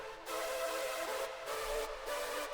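A buzzy, hissing hardstyle synth lead tone with a gritty distorted edge holds steady notes, restarting every second or so in a repeating pattern, with no voices.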